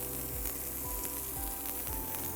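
Garlic and red chilli tempering sizzles steadily in hot oil, a close, continuous frying hiss with faint stirring and clinks, no talk.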